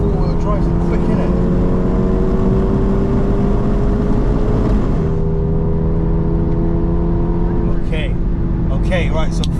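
A four-wheel-drive car launches hard for a quarter-mile run, its engine note loud and close, climbing steadily in pitch, dipping at a gear change, then pulling again.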